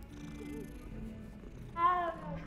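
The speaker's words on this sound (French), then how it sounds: "Pourquoi il y a des chats?" A cat in the Hogwarts Legacy video game purrs with a soft, steady low rumble, then gives a brief meow-like call near the end.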